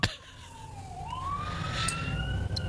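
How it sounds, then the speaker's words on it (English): A police emergency vehicle's siren wails past, starting with a sharp burst and then sweeping up and down in pitch as it grows louder and nearer, heard alone without talking. "Whose ambulance is that? Oh, no, it's the cops."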